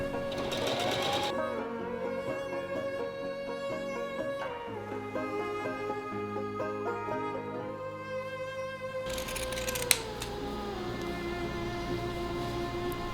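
A sewing machine understitches lining to the seam allowance of a pleated wool skirt, humming steadily and close throughout with slight shifts in pitch, mixed with background music.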